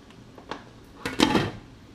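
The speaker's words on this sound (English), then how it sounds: "hence the lid going on as soon as we put him in" A lid clatters onto a pot as a live lobster goes in to cook, with a few light metallic taps at first and then a louder rattling clank. It is close and brief, and no one talks.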